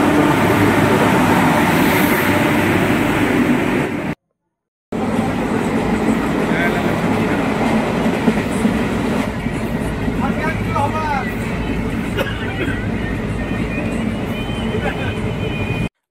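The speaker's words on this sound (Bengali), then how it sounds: "ট্রেন প্রায় পুরো সময়ে ঢুকে গিয়েছে" Ganadevata Express passenger train arriving at a station in West Bengal, a loud continuous rumble of running coaches with a short gap of silence, and people talking nearby over the train noise.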